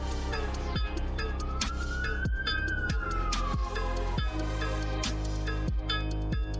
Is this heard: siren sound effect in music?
yes